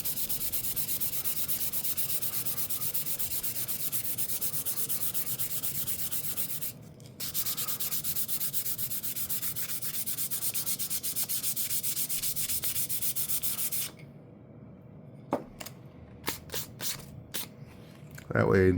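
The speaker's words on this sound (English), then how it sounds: "you rub it with your fingers, it goes right back to black" Fingers rubbing black sawdust wood filler, a steady close, dry rasping friction that runs for about fourteen seconds, then stops, followed by a few light scrapes and taps.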